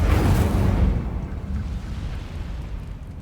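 An Incendio fire spell cast in Hogwarts Legacy, a loud roaring whoosh of flame that bursts up at once and then fades into a rumbling tail, with no talking.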